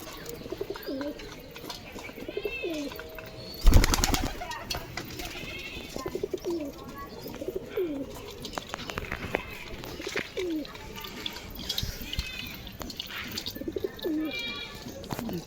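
Pigeons coo repeatedly in a loft, soft throaty calls overlapping near and far, with a burst of wing flapping early on and occasional chirps and rustling.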